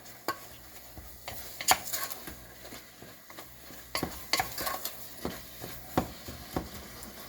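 Ground turkey broken up with a utensil and cooked in a pan on high heat, with a soft sizzle under repeated sharp scrapes and taps of the tool against the pan at an uneven pace.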